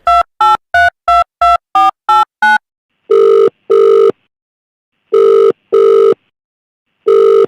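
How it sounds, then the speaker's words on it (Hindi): A telephone dials a number with eight quick evenly spaced tones, then the line rings with paired ring tones separated by silence, loud and clear with no talk. "मैं सोच रहा हूँ उनको फ़ोन कर दें।"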